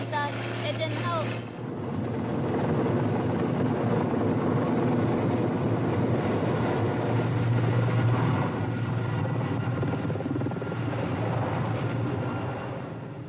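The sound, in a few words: helicopter making water bucket runs at flood fire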